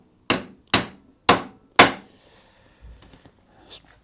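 Four sharp metallic hammer blows ring out at a steady pace up close, driving a taper roller steering head bearing race into a Honda XR125 motorcycle, each decaying quickly, followed by faint handling noises.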